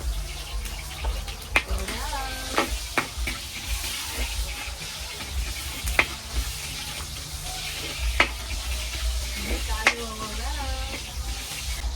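Garlic and onion sauté in a hot pan with a steady, close sizzle and occasional sharp clinks of a utensil stirring against the metal; a voice talks faintly under the frying.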